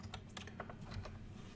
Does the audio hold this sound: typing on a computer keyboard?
yes